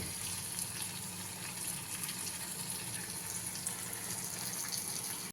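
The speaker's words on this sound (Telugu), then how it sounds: "ఈ ఉడకబెట్టుకున్న వాటర్ కూడా దీంట్లో యాడ్ చేసేసుకుందాము" Boiled water poured into a pot of lamb kabsa majboos, a steady continuous gushing splash that fills the whole moment, close and fairly loud, with no talking.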